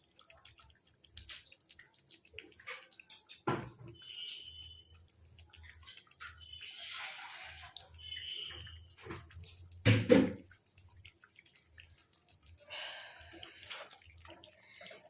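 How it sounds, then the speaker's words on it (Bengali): Water is added to a chicken and potato dish cooking on the stove, heard as a few scattered splashes and drips separated by quiet stretches, fairly faint with no talking. "আমি এটাতে একটু জল দিয়ে দেব"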